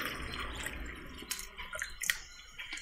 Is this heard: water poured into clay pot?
yes